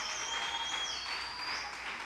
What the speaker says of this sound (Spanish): denle otro aplauso, chifle, de gritos de alegría al Rey